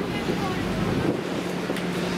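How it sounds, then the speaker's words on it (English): Gusty wind buffets the microphone at a travelling funfair on Kirkcaldy Links, a steady low rumbling roar that fills the whole stretch with no clear rides or voices standing out. "with it being windy, it might not be weather for it to operate in"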